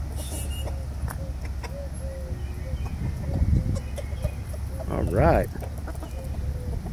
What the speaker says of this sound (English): Man, I never seen such giant chickens in my life.